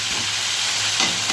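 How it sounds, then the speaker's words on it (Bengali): Potato pieces fry in a pan with salt and turmeric, giving a steady close sizzle and hiss, with a brief scrape of stirring near the end and no talking. "নেড়ে এবার আলুটা ভাজতে থাকবো, ভাজা হবে আর কি আলুটা আস্তে আস্তে"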